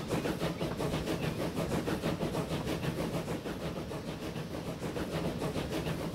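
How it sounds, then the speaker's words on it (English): A slow-moving train in a video game gives a continuous mid-loud rolling rumble with a faint rhythmic clatter, steady and alone for the whole stretch. "Nice train noises, at the very least."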